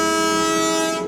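A Himalayan toy train on the Gayabari jungle ride between Gayabari and Siliguri gives off a steady, sustained tonal drone, close and loud, holding evenly throughout.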